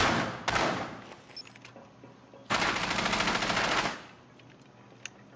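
Gunfire in Rainbow Six Siege comes as two sharp, loud bursts of rapid automatic fire, a short one and then a longer, heavier volley, each followed by quieter gaps.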